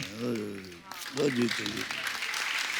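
Studio audience applause on The Kapil Sharma Show stage for visiting film stars swells up after a voice speaks, a burst of clapping with people still talking over it.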